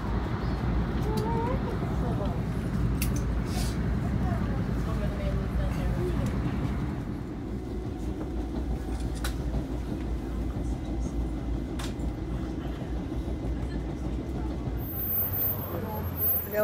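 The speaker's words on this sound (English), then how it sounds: "Got on the train." A subway train ride on the way to a Knicks vs Nets game at Barclays Center, with a steady loud low rumble of the moving car and brief squeals, under continuous crowd chatter and talk.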